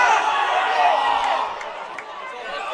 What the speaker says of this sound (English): Crowd's come alive.